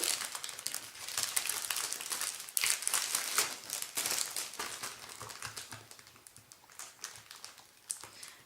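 Crinkly plastic rustles and crackles close up as a bag is handled and tugged, in irregular bursts that gradually quiet down.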